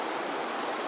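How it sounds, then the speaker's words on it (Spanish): Floodwater gushes out of pipes during heavy rains, a loud, dense, unbroken rush of water filling the short moment. "Ya está saliendo agua"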